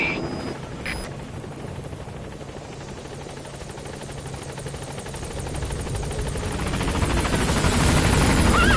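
A support helicopter arriving at a landing zone in Metal Gear Solid 5, its rotor a steady whirring roar that swells louder as it approaches, with no talk over it.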